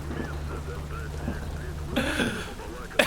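Steady rain patters on surfaces in a S.T.A.L.K.E.R. Lost Alpha game scene, a continuous hiss with low rumble beneath, joined near the end by a brief louder burst and a sharp knock.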